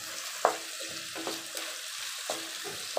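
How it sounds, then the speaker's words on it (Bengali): Spices and ingredients for fried rice stirred in a frying pan at home, giving a steady soft sizzle broken by several sharp scraping strokes of a spatula, close and without talk. "এখন আমি সবগুলোর সাথে মিক্স করে নিচ্ছি"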